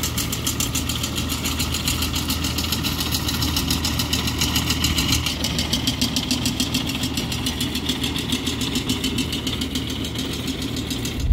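A tractor engine runs steadily while mowing a field, a close, loud, rumbling mechanical drone with a fast rhythmic knock that holds level throughout with no talk.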